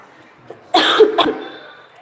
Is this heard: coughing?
yes